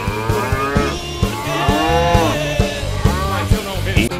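Cattle mooing inside a video game, drawn-out lowing calls with harmonic sweeps repeating over a steady rhythmic game soundtrack beat, loud and close.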